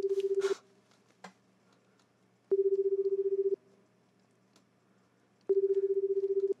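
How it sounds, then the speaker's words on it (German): Three short bursts of phone dialing tones sound in the Last Day of Spring video game, clear and electronic, each lasting about a second and separated by pauses, with faint clicks between. "Okay, ich rufe dich an."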